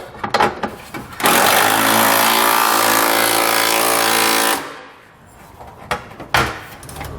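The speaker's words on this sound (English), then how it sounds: "you can come back with a 11/16 socket and get it all snugged down" A socket tool snugs down hitch bolts during a Curt trailer hitch install on a 2016 Infiniti Q50, with a loud sustained whirring burst of about three seconds and scattered clanks and knocks before and after.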